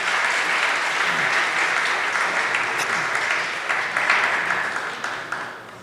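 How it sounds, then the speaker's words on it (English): Sustained audience applause at a startup pitch competition event for automotive and mobility, a dense, steady wash of many hands clapping close and loud, with a faint voice or two murmuring underneath. "Please applause."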